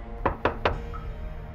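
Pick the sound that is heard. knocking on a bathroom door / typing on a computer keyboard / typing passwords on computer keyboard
knocking on a bathroom door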